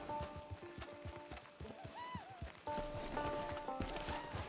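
Horse hooves clip-clopping in Red Dead Redemption 2 online, a rhythmic series of close hoof strikes with a brief whinny midway and music or game sounds underneath.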